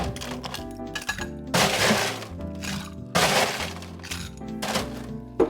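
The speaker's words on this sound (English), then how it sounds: "Drop in some ice." Ice cubes dropped one after another into a metal cocktail shaker while mixing a Blood Red Moon cocktail, landing as sharp, loud clattering crashes in a few bursts with quieter rattling between them.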